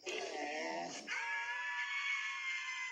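A screaming sound effect in a commercial: one loud, drawn-out high-pitched scream, shifting pitch after a second and sustained for about three seconds, alone and up close.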